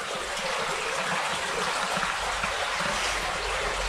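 River water rushing through an underground brick culvert beneath Stert Street, a constant broad hissing wash with a low rumble echoing in the enclosed tunnel, steady and fairly loud with no voices.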